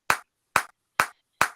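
Four single hand claps, close and crisp, evenly spaced about half a second apart in a quiet room.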